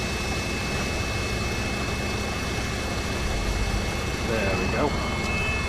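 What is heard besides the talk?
delivery truck engine running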